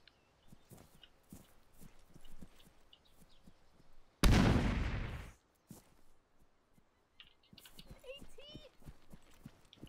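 A frag grenade explodes in Arma 3, one loud broadband blast after a few seconds of quiet footsteps and small noises, the boom decaying over about a second, with faint voices and clicks around it.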